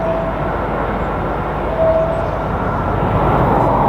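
An Iberia airliner arriving from Dusseldorf at Madrid Barajas Airport, its steady broadband jet roar carrying at moderate distance in the open air with no voices.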